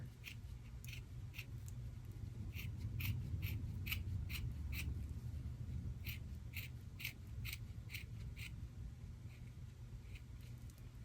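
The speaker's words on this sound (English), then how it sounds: "So you're gonna cut that selvage off." Repeated crisp fabric-scissor snips cutting the selvage off fabric in a steady series, clustered in bursts, over a constant low rumble of background noise.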